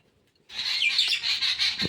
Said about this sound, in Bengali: আর পাখিগুলো কিচির কিচিরমিচির করতেছে